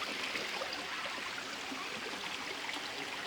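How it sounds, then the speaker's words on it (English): A small creek flows in a steady, close, unbroken rush and trickle of water with no voices. "A bit of water going down there."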